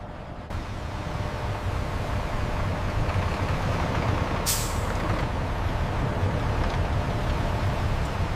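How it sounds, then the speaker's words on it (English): A logging truck delivering raw timber to a large plywood mill rumbles steadily nearby, and its air brakes give one sharp hiss partway through over the low engine drone. "A fleet of logging trucks delivers the raw material to the colossal plywood manufacturing facility."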